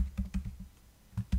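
Typing on a computer keyboard while coding: a short run of soft key taps, a pause, then a couple more keystrokes, close and quiet.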